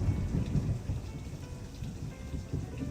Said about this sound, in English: dang, that thunder is crazy. So you all can hear it.